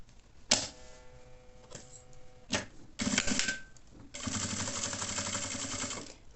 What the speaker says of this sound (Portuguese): E vou passar uma costura em cima dessa costura aqui, ó.